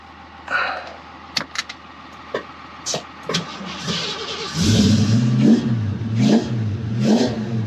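A 1990 Ford Mustang GT engine catches after a few clicks and knocks, then revs unevenly in rising and falling surges, sounding rough and near as it struggles to stay running.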